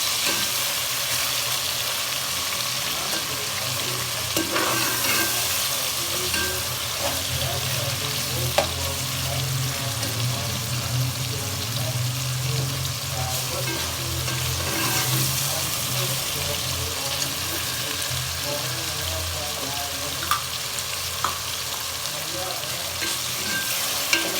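Chili masala sizzles and crackles in a hot pan while being stirred, a dense, continuous frying hiss with scraping and small pops, close and steady throughout.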